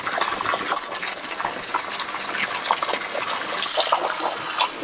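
Water running and splashing through a silicone hose into a tank, a close, fluctuating trickle and gush that keeps going without pause.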